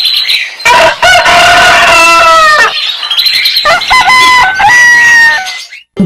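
A rooster crows loudly and close, two long drawn-out cock-a-doodle-doo calls with clucking and wing flapping in between, ringing out alone before cutting off abruptly.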